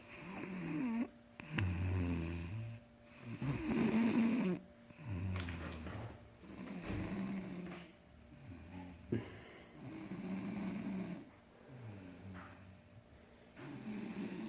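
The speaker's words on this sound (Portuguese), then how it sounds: "Ele ronca no sofá, imagina na cama." A man snores on a sofa in slow, regular cycles: deep rasping inhales alternating with quieter breathy exhales, repeating about every two seconds, close and fairly soft in a quiet room.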